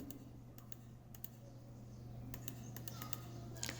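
Steady typing on a computer keyboard while working in a spreadsheet, with scattered key clicks in small bursts over a low constant hum, fairly quiet and close.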